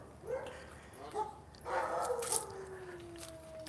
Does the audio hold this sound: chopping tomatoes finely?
no